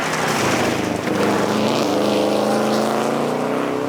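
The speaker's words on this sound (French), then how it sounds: "Ryu et Turgeon dans cette Subaru orange vif" An orange Subaru rally car drives a stage at the Rallye Perce-Neige 2022 in Quebec, its engine loud and close, with a harmonic drone that climbs in pitch as it accelerates.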